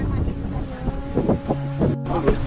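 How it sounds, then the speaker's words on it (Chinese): A low continuous rumble rises from a boiling mud volcano cave in Yellowstone, with a constant deep roar and bubbling surges. People talk over it throughout. "看那个洞里面好像有怪兽，一直发出轰轰的声音"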